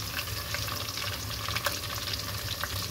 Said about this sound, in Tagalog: Ginagisa na po.